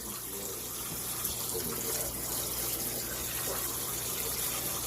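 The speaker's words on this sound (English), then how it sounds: "So I'm going to rinse that all off." Tap water pours steadily over cooked noodles in a pan, a constant close rushing gush with no pauses.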